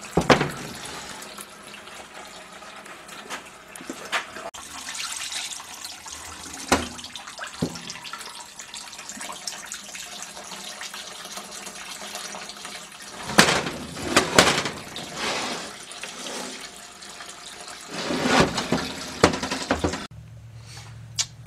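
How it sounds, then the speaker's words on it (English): Liquid is flushed through a Willys MB T84 transmission part, coming as irregular bursts of gushing, splashing flow with quieter pauses between them, close and alone over about twenty seconds. "I'm going to keep flushing that until it's clean."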